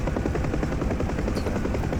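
The rotor of a UH-1 Huey helicopter in the DCS flight simulator thumps in a fast, steady chop over a continuous engine roar, loud and unbroken, flown in rain with no voices present.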